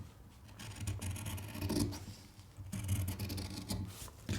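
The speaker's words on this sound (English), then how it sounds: "And then just trim out your pattern pieces, adding that 5mm seam allowance." Scissors trim fabric pattern pieces with a seam allowance in a few close, quiet rasping snips and rubbing cuts, uneven in rhythm, with no voices.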